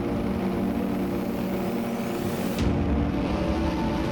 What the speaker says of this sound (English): the revs are going to be up from everybody else